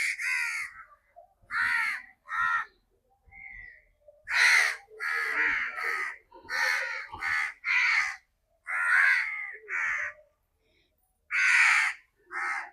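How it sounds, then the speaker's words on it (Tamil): Many crows caw repeatedly at a temple, loud harsh calls in irregular bursts and pairs, with short quiet gaps between them and no talk over them. "பாருங்கள் எவ்வளோ காகம் வந்திருக்குன்னு பாருங்கள்."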